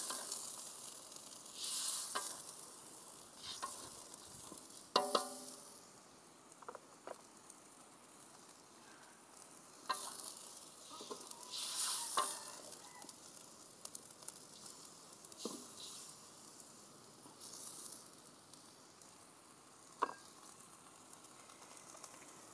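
Low, steady sizzling and bubbling of food cooking in a pot on a traditional old-style stove, with scattered clinks and scrapes of stirring.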